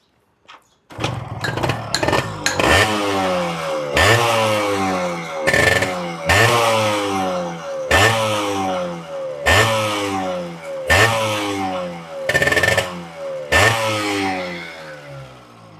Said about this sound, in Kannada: ಗಾಡಿ ಸ್ಟಾರ್ಟ್ ಮಾಡ್ತೀನಿ, ಪರ್ಫಾರ್ಮೆನ್ಸ್ ಯಾವ ಥರ ಇದೆ ನೋಡ್ಕೊಳ್ಳಿ